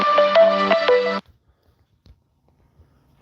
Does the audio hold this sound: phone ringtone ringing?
yes